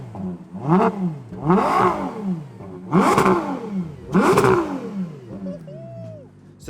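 A Ferrari Purosangue's naturally aspirated 6.5 litre front mid-mounted V12 is blipped four times in succession, each rev rising and falling in a loud, close, smooth howl before it settles back to idle.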